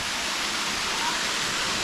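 A shallow waterfall at Sycamore Shoals in East Tennessee gives a steady, even roar of rushing water, close and unbroken throughout.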